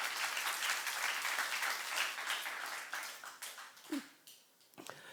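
A church congregation claps in a fairly quiet, diffuse round of applause that thins out and fades toward the end, with a few scattered late claps.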